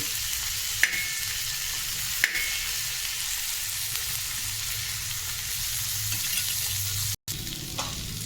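Stuffed okra for a fasting-day dish frying in a pan covered with a plate gives a steady, soft sizzle and hiss, with a couple of sharp clicks and a brief clatter near the end.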